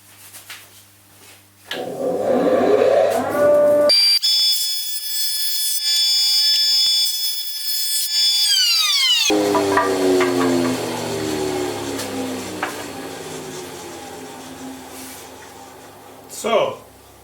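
An Elektra Beckum HC 260-M jointer/planer starts up with a rising motor hum into a loud, steady high-pitched whine, then drops and rumbles as it cuts hardwood before winding down with a final knock.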